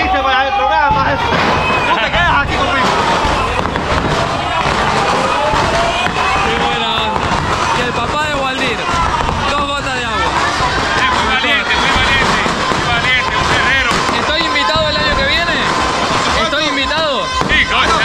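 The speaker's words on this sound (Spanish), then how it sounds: "Terminó la primera locura de morteros, de fuegos artificiales que tiraron." Fireworks and mortars bursting at a street celebration in Cuba, with loud continuous crackling and pops blending into crowd babble and shouting throughout.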